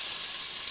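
Onion and garlic sauté in hot oil in a pan for chicken macaroni soup, a steady close sizzle with no other sound.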